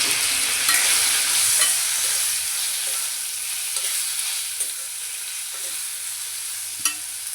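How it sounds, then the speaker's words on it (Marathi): Okra frying in hot oil with turmeric, a loud continuous sizzle with occasional stirring knocks against the pan, no voices. "आपली जी ही भेंडी आहे ही फ्राय करून घेऊया"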